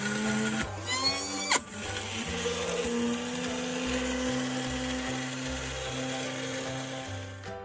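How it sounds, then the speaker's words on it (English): A blender grinds nuts into a creamy paste for homemade Nutella, giving a steady whirring motor drone with a brief rattling surge in the first seconds, then an even, continuous grind with no talking. "we have to grind the nuts into a creamy paste consistency"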